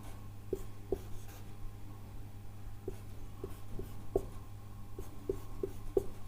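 Chalk or marker taps and scratches on a board in short, evenly spaced strokes while chemical formulas are written, quiet with a steady low hum underneath.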